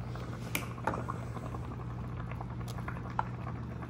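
Green liquid containing ethanol boiling in a home distillation setup, a faint steady bubbling patter with occasional small pops over a constant low hum.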